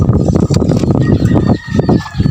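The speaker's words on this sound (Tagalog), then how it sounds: "Mga manok na to." Chickens cluck and call close by, a busy layered mix of fowl voices with a rooster-like crow among them, loud and continuous for a couple of seconds.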